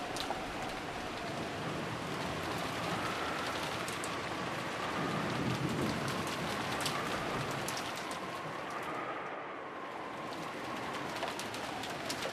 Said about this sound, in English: disappeared beneath the sound of the rain